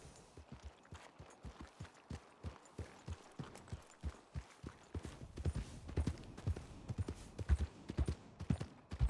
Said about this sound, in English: I thought I heard a bunch of horses for a second.